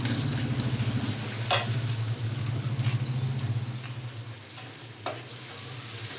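Turmeric, coriander powder, jaggery, salt and curry leaves sauté in a pan with a continuous close sizzle over a low hum, marked by a few sharp scraping stir strokes and no talking.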